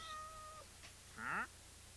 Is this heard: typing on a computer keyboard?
no